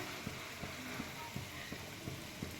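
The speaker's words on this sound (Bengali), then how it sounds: "তেলটা প্রায় গরম হয়েই গেছে এবারে আমি বড়াগুলো একটা একটা করে ছাড়ছি দেখো" Chickpea lentil fritters (chholar daler bora) are dropped one by one into hot oil. A faint, steady sizzle runs throughout, with soft periodic clicks and taps about every third of a second and no talking.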